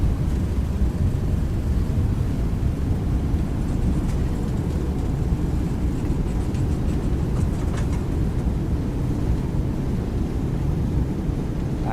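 A steady low roar of Toliss A330-900neo jet engines in reverse thrust after touchdown at EGLL in X-Plane 12, a dense continuous rumble with no voices.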